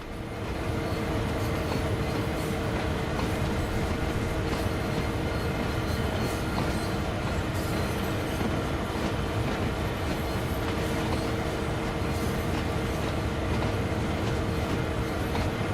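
A steam locomotive running on the Puffing Billy steam railway in Train Sim World, a steady rumbling roll of wheels and carriages with a faint rhythmic clatter, continuous and fairly loud, with no voices.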